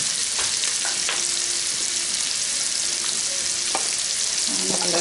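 Curry with cauliflower and white beans frying in a pan, a loud, dense, continuous sizzle close by, with a few faint clinks and stirring sounds.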